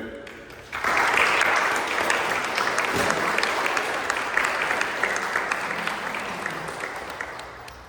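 An audience at a gallery reading at Et al. Gallery breaks into applause to welcome a speaker. The clapping starts abruptly after a brief quiet moment, then stays dense and steady, fading slightly toward the end.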